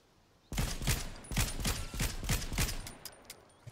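Rapid bursts of gunfire in an arena combat video game, roughly a dozen close, loud shots in an uneven rhythm after a quiet start, thinning out toward the end, with no voices.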